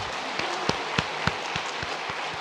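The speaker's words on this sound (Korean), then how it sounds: "하나님께 영광의 박수로 올려드리시겠습니다." A church congregation applauds steadily, with some louder claps falling into an even rhythm.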